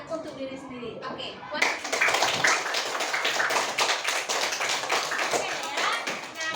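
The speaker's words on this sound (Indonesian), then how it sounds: "memberikan tepuk tangan yang meriah untuk diri sendiri" Classroom of children clapping for themselves with lively, uneven hand claps that start abruptly after a teacher's voice and continue steadily, close and moderately loud.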